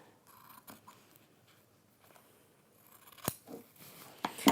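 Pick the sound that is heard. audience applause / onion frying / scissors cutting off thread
scissors cutting off thread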